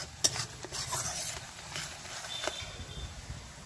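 Onions and spices frying in a pan in a village kitchen, a quiet sizzle with light scraping and stirring taps of a spoon, faint and close.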